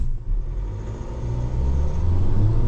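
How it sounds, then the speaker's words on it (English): A JAC T9 pickup pulls away from a standstill at full throttle, its engine a loud, steady low rumble that builds gradually as it accelerates, heard from inside the cab. "Complete stop, and I'll just give it full throttle."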